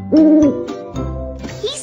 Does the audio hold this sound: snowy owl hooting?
yes